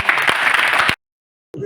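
An audience at a wrestling akhada gathering gives loud, dense applause with a few sharp individual claps, cutting off abruptly into silence before a brief return of sound.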